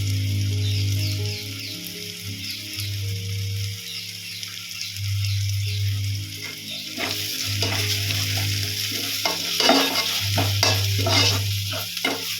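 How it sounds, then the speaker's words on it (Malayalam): Turmeric, chilli and coriander powders fry in a pan over a low flame for a kadala curry, with a steady soft sizzle and scraping stirs that grow busier in the second half, while background music plays. "മസാലപ്പൊടികൾ ഇട്ട് കൊടുത്തിട്ട് ഒരു 2 തവണ ഒന്ന് ഇളക്കി കൊടുത്താൽ മതി ലോ ഫ്ലെയിമിലിട്ടിട്ട്"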